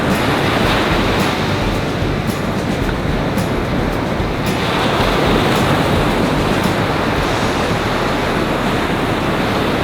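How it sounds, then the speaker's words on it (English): Surging waves wash up a beach in a loud, continuous roar of surf, near and unbroken, with no voices. "a surging wave to wash it up the beach"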